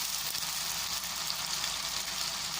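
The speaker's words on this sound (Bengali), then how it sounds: "দিয়ে এবার এই মশলাটা আমরা ভালোভাবে কষিয়ে নেব।" Biryani spice paste of ground cumin and other masala frying in a pan, a steady soft sizzle with no break, close and fairly quiet, no voices.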